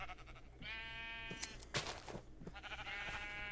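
Sheep in the Minecraft video game bleat in a few quavering, wavering cries, fairly clear and close, over a low steady background hum with a couple of brief clicks between calls.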